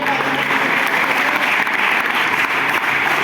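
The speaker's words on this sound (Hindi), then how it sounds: "जोरदार ताली बजा के" Loud, dense applause from a crowd at a Guru Purnima celebration in a wrestling akhara, continuous and even throughout with no breaks.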